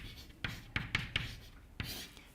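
Short scratchy strokes of writing on a board during a physics lecture, about five quick marks in uneven rhythm, close and fairly quiet.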